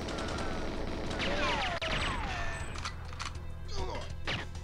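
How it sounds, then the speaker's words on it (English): Crates explode amid gunfire in the video game GoldenEye 007, played on a custom research bunker level: dense, continuous bursts of shots and crashing impacts layered over game music and effects, loud and busy throughout. "Do death via crate explosion on that guy."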